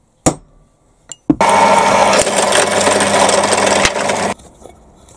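Small drill boring a 2.5mm hole through a flat side of a metal shaft for a toy tipping trailer conversion, a few sharp clicks and then a loud close whir lasting about three seconds before stopping.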